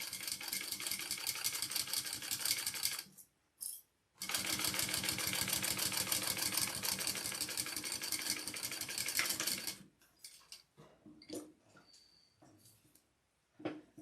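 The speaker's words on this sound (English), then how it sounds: "Does that mean I'm going to be sewing through my tape?" A sewing machine stitches through tape with a fast, steady mechanical chatter close by, pausing briefly around the middle, then stopping to leave quieter handling noises and short clicks.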